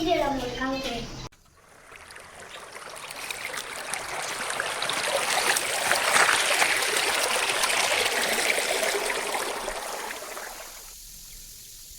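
Lovebirds bathing in a park make a steady rush of water splashing, rising and holding loud for several seconds and then easing, with a brief voice at the very start.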